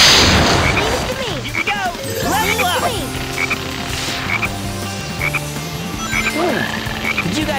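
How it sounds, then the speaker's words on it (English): A frog croaks repeatedly in the video game Sonic Heroes, with several loud croaks spread across the stretch over steady game music and effects. "Did you guys hear a croak?"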